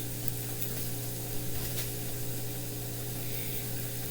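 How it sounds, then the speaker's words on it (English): Italian sausages brown in a frying pan, giving a steady, close sizzle and hiss with a low hum underneath and a few faint clicks, with no talking. "now I'm going to brown these sausages for about 5 minutes on, just to get them browned on each side"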